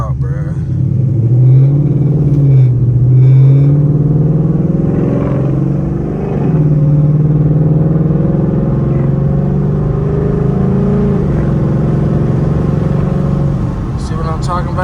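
Steady loud wind rush through a slightly cracked window of a Mustang GT driving at night in the rain, a constant roar over low engine and road hum throughout.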